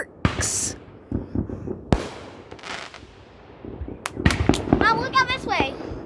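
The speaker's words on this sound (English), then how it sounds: "Fireworks." Fireworks bursting outdoors on a fireworks holiday, with sharp cracking bangs and popping, crackling volleys spread across the stretch, some near and loud, while people talk and exclaim between the explosions.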